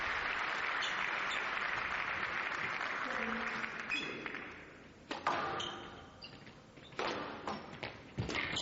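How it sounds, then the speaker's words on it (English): A crowd at a 2008 Canary Wharf squash match applauds a shot with a dense burst of clapping that fades after a few seconds. Sharp ball pings and thuds follow as play resumes. "the crowd loved that shot"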